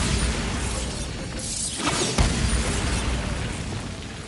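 A Bombarda blasting spell goes off in Hogwarts Legacy, a loud mechanical crash with shattering debris and a dull boom over a dense game background, peaking near the middle.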